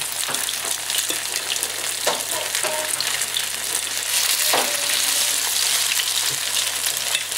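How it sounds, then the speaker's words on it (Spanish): Breaded Villaroy-style chicken breasts coated in béchamel fry in a pan with a loud, continuous crackling sizzle, dotted with sharp pops and spits throughout and no voices. "Estoy friendo unas pechugas Vilaroy"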